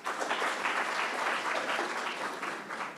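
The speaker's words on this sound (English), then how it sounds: "Let's clap hands for ourselves." A conference audience at a gathering on early and unintended pregnancies in Eastern and Southern Africa claps together, a dense, continuous wash of applause at steady level from start to finish, with no talking over it.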